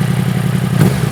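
Yamaha R1M superbike engine idling once warmed up, a loud, steady low burble with even pulses and a slight swell near the end, no talking.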